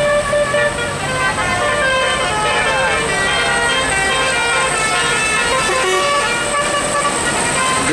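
A loud musical multi-tone telolet horn on a dump truck plays a melodic tune continuously, close by, over road and vehicle noise.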